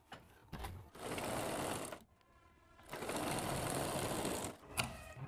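A sewing machine stitches gota patti lace onto a kurti sleeve in two steady whirring runs, close and even, separated by a brief pause and followed by a clunk.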